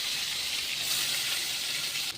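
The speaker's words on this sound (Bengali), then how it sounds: "এবার আমি এগুলো ভেজে নেব।" Pointed gourd (potol) pieces fry in a generous amount of hot oil, giving a steady, even hiss that holds close and constant throughout with no voices.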